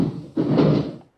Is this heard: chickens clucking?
no